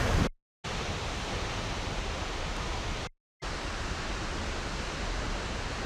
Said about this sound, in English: I've never seen a waterfall that big or as powerful in my life.